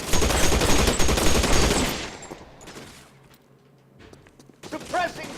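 Rapid automatic gunfire in the L.A. Noire video game, loud and sustained for about two seconds, then fading into quieter ambience before a few more shots near the end, with a voice shouting briefly.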